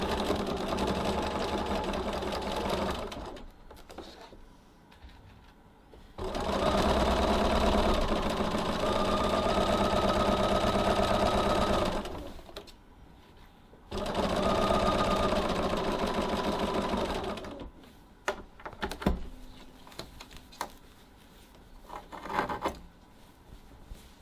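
Stitching the sides of a tote bag's exterior zipper pocket, a domestic sewing machine runs in three sustained bursts separated by pauses, whirring close and steady, followed by brief handling clicks and rustles.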